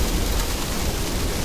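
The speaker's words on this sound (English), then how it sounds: "Is that hail? Or rain? Looks like hail, it's like bouncing." Hail falling in the video game Middle-earth: Shadow of Mordor, a dense, steady hiss of pelting ice that fills the short stretch evenly without a break.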